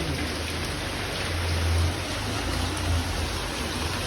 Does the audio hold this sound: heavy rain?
yes